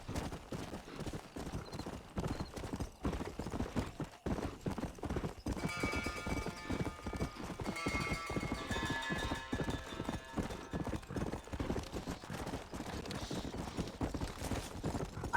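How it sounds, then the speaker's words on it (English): A horse trotting in the video game Red Dead Redemption: Undead Nightmare, with steady rhythmic clip-clop hoofbeats, close and continuous, and a brief whinny partway through. "we can just grab our horse and we take a trot over there"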